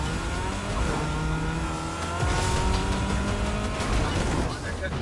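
Car driving in a multiplayer racing video game: a steady engine drone with rising and falling revs, continuous and fairly loud under game music, with a voice talking over it.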